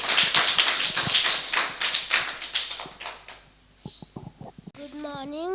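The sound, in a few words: students clapping for a speaker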